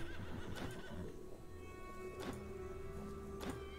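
A horse in the medieval game Stoneshard whinnies loudly while hooves clop in an uneven rhythm under a steady ambient hum.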